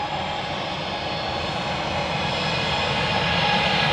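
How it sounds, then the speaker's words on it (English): A Ryanair Boeing 737 jet taxis out at Manchester Airport, its steady engine roar holding loud and continuous with a slight swell toward the end. "Another Ryanair 737 on the taxi out."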